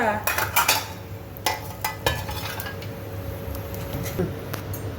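Coriander seeds being dry-roasted in a pan, with a spoon clinking and scraping against the metal in quick bursts early on, then quieter, sparser stirring.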